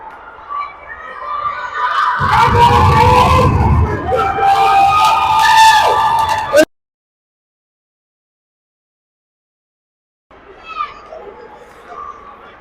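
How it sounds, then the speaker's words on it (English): Hockey crowd at a championship game roaring and cheering after a goal, a loud dense swell of voices with whistles and shouts that cuts off abruptly, followed by silence, then faint arena noise returns. "And the crowd goes crazy."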